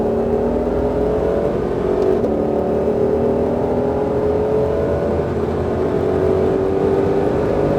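A Ford Mustang Shelby GT500 accelerates on a race track at Exotics Racing in Las Vegas. The engine drones loudly and continuously with a rising, steady pitch, close and dominant throughout.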